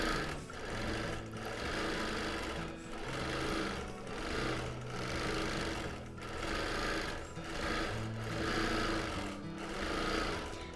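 A sewing machine free-motion quilts a tire-tread border, its needle hammering in a fast, continuous rhythm that swells and dips slightly in speed, running steadily nearby with no talking.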